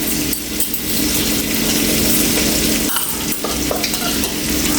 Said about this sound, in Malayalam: അതും കൂടി ഇട്ടിട്ട് നന്നായിട്ട് നമുക്കിതൊന്ന് വഴറ്റിയെടുക്കാം.